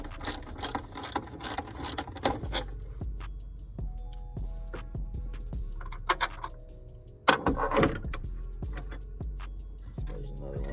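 A cheap Harbor Freight ratchet loosens a bolt while a fan is removed during a radiator replacement on a 2005 Kia (Hyundai Tucson), giving close, rapid clicking runs of the pawl, pauses between strokes, then a metallic clatter.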